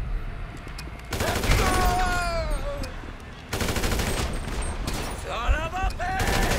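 Bursts of rapid gunfire in Grand Theft Auto V, loud and close, layered with shouting and game sounds in two dense volleys.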